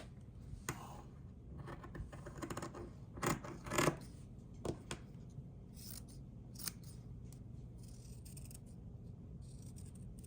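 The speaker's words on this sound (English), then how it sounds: "And then we're gonna cut out the circle." Scissors snip out a circle for a handmade keepsake memory ornament: a close series of crisp, irregular cuts with short pauses between them and no talking.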